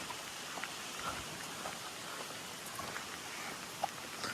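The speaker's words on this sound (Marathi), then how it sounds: "समोरून पाऊस येतोय जोरात खूप." Heavy rain on a mountain trek to Irshalgad fort, a steady dense hiss of falling drops with a few sharper spatters, continuous and fairly close throughout.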